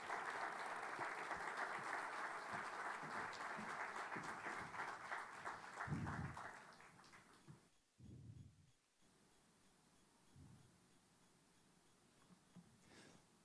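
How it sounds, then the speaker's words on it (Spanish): An audience at an education seminar applauds in welcome of a guest speaker, a dense, steady wash of clapping that fades out after about seven seconds, followed by a few faint thumps and quiet room noise. "Vamos a recibir con un gran aplauso a nuestro invitado"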